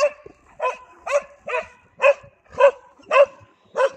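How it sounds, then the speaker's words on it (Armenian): A dog barks close by in a steady series of about eight sharp, evenly spaced barks, each loud and distinct, with no talking. "հերիքա հաչաս"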